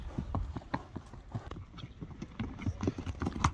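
A dark-bay horse with a white blaze arrives at a brisk clip-clop, hooves striking in a quick uneven rhythm nearby, steady throughout with faint voices in the background.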